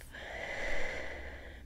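A slow, audible in-breath during a meditation, a soft airy inhalation that swells and fades over a couple of seconds, close and alone.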